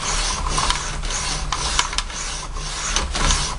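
A knife blade is drawn across a sharpening stone at a 20-degree angle in steady, rhythmic rasping strokes, close and fairly loud, with no one speaking.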